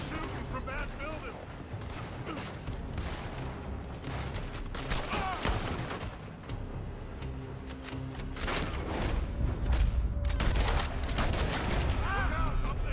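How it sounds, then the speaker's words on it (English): Gunfire pours from a building in Red Dead Redemption 2, with repeated sharp shots and booms scattered through a noisy gunfight that grows heavier toward the end, while people talk over it. "They're shooting from that building."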